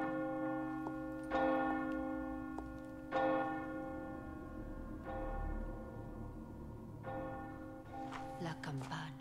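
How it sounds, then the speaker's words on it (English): Church bell in the video game Resident Evil 4 tolling four slow, resonant strikes that ring out and decay under a low ambient drone, with a brief burst of other noise at the end. "Oh, ring the bell, ring the bell."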